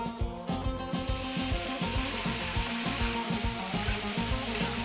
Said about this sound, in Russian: Помидоры или томатное пюре следует обжарить как следует